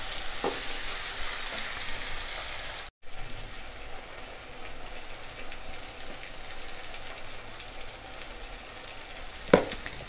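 Onions and tomatoes sauté in a pan for a tomato chutney, a dense, steady hiss of sizzling like light rain, close and continuous, with a short dropout and one sharp tap near the end.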